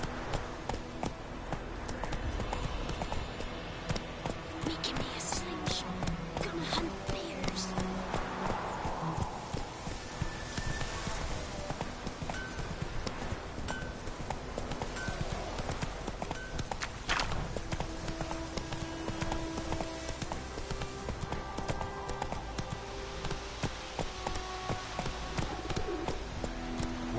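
Roach the horse trots in The Witcher game with steady clip-clop hoofbeats that carry through the whole stretch, while birds coo and call in the background.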